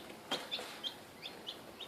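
Baby chickens in a bird house give a series of about six short, high peeps and clucks, evenly spaced and close by, with no talking.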